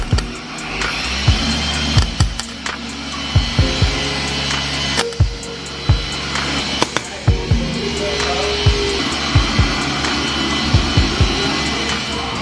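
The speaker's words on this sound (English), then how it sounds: "let me go ahead and do a few tack welds on here" Tack welding on a car's metal floor pan in a workshop, short sharp bursts repeating irregularly over a steady loud hiss and hum, heard close up with no talk.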